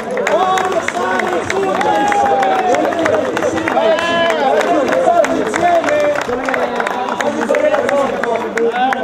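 Crowd applause and cheering at the Freedom Cup prize-giving in Monza, with a steady wash of clapping and noisy hubbub throughout and people talking over it.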